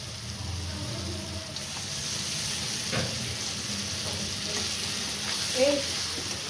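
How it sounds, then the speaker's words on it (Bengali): Salted goat meat sautés in a pan, giving a steady, close sizzle and hiss with occasional stirring scrapes. "আমি এই মাংসটা কষছি, এখনো কষা হয়নি, হচ্ছে।"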